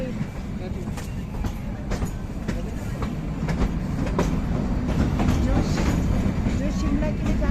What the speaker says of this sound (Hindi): ट्रेन है ये, ट्रेन छोटी ट्रेन